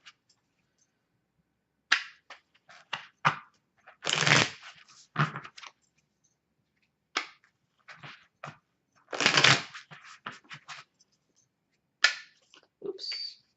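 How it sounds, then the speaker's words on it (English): Bursts of tarot card shuffling, quick riffles and flicks separated by short silences, close and fairly crisp. "So I'm just going to do a quick shuffle here."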